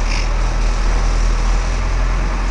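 Car coming to a stop in city street traffic, a steady low engine rumble and broad road noise close by, with no clear voices.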